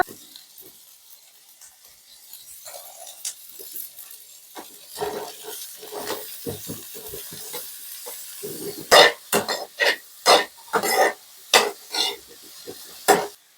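Peeled, washed mushrooms drop into a pan and are stirred, starting with a faint sizzle that builds into a series of loud, rhythmic scraping and clanking strokes of a spoon against the pan toward the end.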